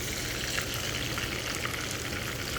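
Boneless fish, frozen and then defrosted, frying in hot oil with a steady, dense sizzle and crackle that runs unbroken and close throughout, with no voices.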